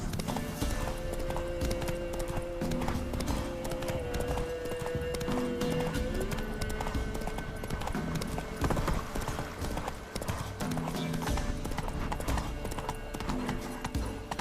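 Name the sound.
horse Roach galloping in video game The Witcher 3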